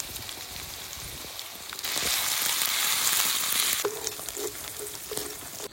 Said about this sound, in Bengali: মশলা একটু কষিয়ে নিয়েছে